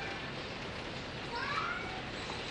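A pet cat meows once, a short faint call rising out of steady indoor background noise, with no talking over it.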